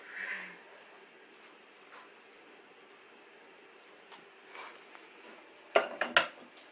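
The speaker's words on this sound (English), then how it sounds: "I'm going to scrape off these beaters as much as possible. I'm just going to put them in the sink for now" Metal mixer beaters clatter into a kitchen sink in a short burst of sharp clanks and rattles, following a quiet stretch with faint scraping.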